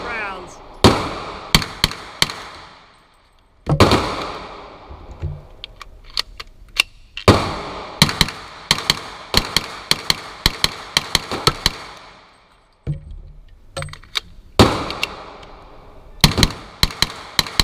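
A stainless-steel Kel-Tec Sub 2000 carbine fires in rapid strings of sharp, loud shots during feed-ramp testing, with bursts separated by brief pauses and quiet gaps.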